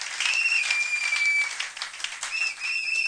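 A church congregation applauding, dense continuous clapping with a few whistles and cheers mixed in, loud and sustained throughout with no distinct speech.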